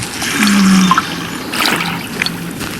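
Water splashes and trickles while plants are being watered at a small homestead garden, short close pours and dribbles with brief pauses between them.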